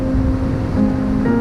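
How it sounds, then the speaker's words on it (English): Steady surf washing onto a sandy beach during an outdoor yoga relaxation session, a continuous broad wash with a low breezy rumble, fairly close and even throughout, with no voices. "listen to the waves"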